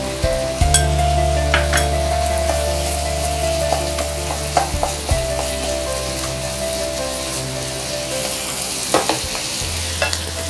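Two teaspoons of red chili paste frying in a pan for a chilli squid dish, a steady close sizzle with occasional scraping stirs and utensil clicks throughout.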